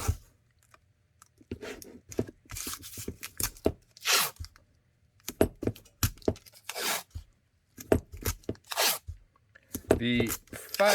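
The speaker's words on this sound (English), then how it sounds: "I'm going to go ahead and throw some tape on the top side." Tape rips off a roll in several short, sharp tearing bursts with quiet gaps between them as it is applied while making a holster for an FN 5-7 pistol, close by.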